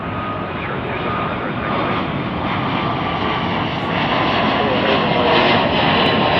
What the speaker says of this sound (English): there's that United 767 that's crossing over here